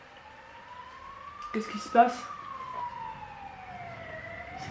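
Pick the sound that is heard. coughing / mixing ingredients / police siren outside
police siren outside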